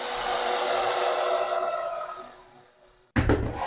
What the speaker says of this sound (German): So schrauben wir es fest. Ich nehme jetzt ein 5x, eine 3x30er Schrauben.